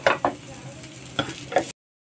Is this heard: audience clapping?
no